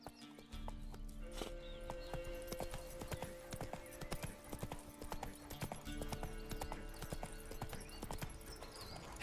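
Roach, the horse in The Witcher 3: Wild Hunt, gallops in a steady, close run of rapid hoofbeats with a neigh, set against game ambience.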